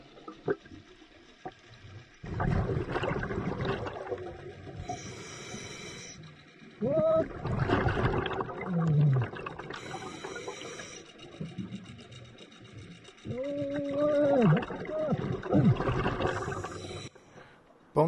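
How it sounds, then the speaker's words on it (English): Underwater ambience on a scuba dive: muffled rushing bursts of regulator breathing and bubbles come and go, with faint whooping, muffled vocal sounds in between. "I am going to leave you with just a little bit of underwater sound"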